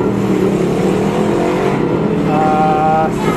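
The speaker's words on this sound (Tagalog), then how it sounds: "Kasi pag nag-revolution ka, yung tumataas yung RPM niya, pumapalo ng sagad." A Yamaha Gravis scooter engine revs hard toward high RPM, a loud, close, continuous whine that climbs and holds with no talk over it.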